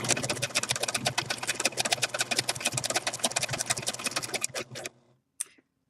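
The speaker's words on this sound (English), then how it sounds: "I like to have the right side of the zigzag stitch go slightly off the edge of my fabric." Sewing machine running a zigzag satin stitch along a fabric edge, a fast steady close mechanical chatter for about five seconds that stops abruptly, followed by a brief click.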